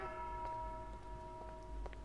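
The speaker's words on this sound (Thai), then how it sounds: "อุ้ยเสียงระฆังดังเงงงางอยู่ตรงนั้น" A church bell in the horror video game Hibernation rings with a sustained, humming metallic tone, its layered overtones lingering steadily at moderate distance with faint clicks scattered over it.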